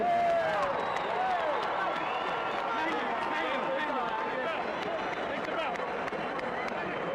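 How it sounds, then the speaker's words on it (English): Boxing arena crowd applauding challenger Shannon Briggs from Brooklyn after his bout with Lennox Lewis, a dense, continuous roar of clapping and cheering that stays loud throughout, with a ringside announcer's voice over the top. "A round of applause, ladies and gentlemen, for the challenger from Brooklyn"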